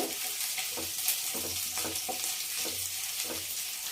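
Ginger garlic paste sizzles in a hot pan, a continuous moderate frying hiss broken by several soft scraping stirs at a steady pace, no voices.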